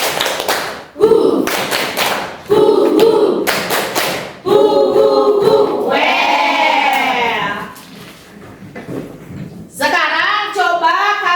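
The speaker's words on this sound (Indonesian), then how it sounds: "Tepuk semangat Velocity" A class of students claps a rhythmic spirit chant as an icebreaker. Sharp bursts of group clapping alternate with voices calling out the chant together in sing-song unison.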